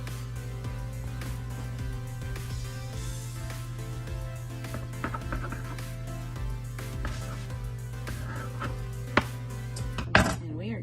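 Bread loaf being cut with a knife, a long run of soft sawing and crumbly rasping strokes over a steady hum, with a couple of sharper knocks near the end, close by.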